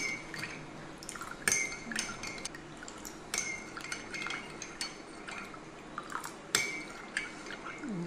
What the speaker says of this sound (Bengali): এবার আমি এটাকে খুব ভালোভাবে নেড়ে মিক্স করে নিব এমনভাবে মিক্স করব যাতে করে এর ভিতরে কোনো চিনি বা লবণ দানা বেঁধে না থাকে